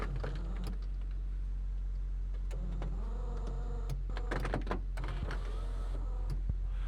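A Honda CR-V sunroof motor hums and whines quietly over a low engine idle, with small clicks and mechanical shifts as it moves.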